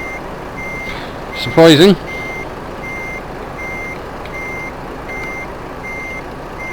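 Reversing beeps from a truck in Euro Truck Simulator 2, evenly spaced high tones repeating steadily over an engine drone, with a man's brief spoken remark partway through.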